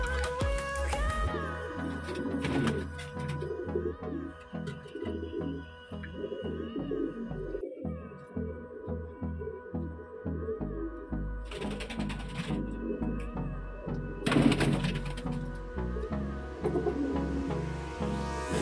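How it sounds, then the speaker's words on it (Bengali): Many pigeons in a loft, a dense overlapping chorus of low throaty coos and rhythmic murmurs, close and steady throughout with faint background clatter and no talk. "অনেক পায়রা আছে"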